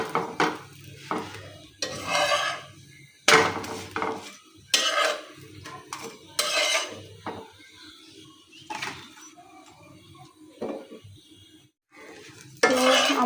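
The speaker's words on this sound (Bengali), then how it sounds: "তো আমার রুটি ভাজা হয়ে গেছে সব।" Roti flatbread fries in a pan in repeated short bursts of sizzling, separated by quiet gaps, with a metal utensil scraping and clattering against the pan.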